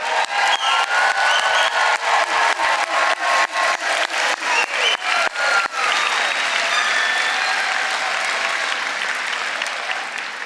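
Graduation commencement crowd breaking into loud, sustained applause with scattered whoops and cheers, dense clapping filling the hall for the full stretch.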